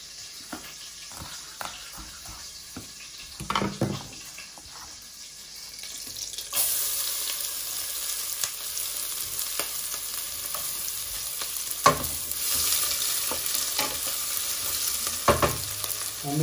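Chopped onion sweating in butter in a saucepan, a steady soft sizzle and frying hiss that grows louder partway through, with occasional stirring scrapes.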